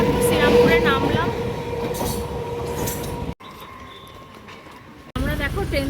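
A train at a station in Serampore rumbles and clatters loudly and steadily, with a brief quieter stretch before the noise surges back; voices can be heard around it.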